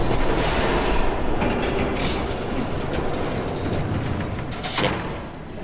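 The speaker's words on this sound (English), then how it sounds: "There's a train coming." A train rumbles past in the Batman Telltale Series game, a dense continuous roar of wheels and carriages with faint clattering squeals, loud and close throughout.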